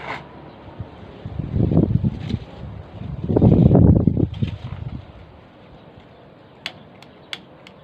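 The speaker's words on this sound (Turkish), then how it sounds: "bir yine mübarek çok güzel bir rüzgar var söndürüyor" Strong gusts of wind buffet the microphone outdoors beside a wood fire in a garden, in low rumbling bursts, rising and falling twice, followed by quieter moments with a few faint ticks.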